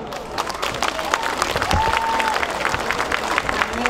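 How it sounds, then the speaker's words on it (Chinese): Audience applause at a temple plaque-unveiling ceremony for Taiwan's president, a steady crowd of clapping hands sustained throughout, with a faint tone drifting over it. "好，掌声鼓励一下。"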